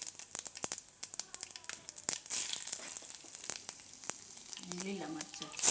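Cumin, bay leaf and green chillies frying in hot oil for a cashew-potato curry, a bright crackling sizzle close up with irregular pops, spits and rustling taps as spices hit the pan.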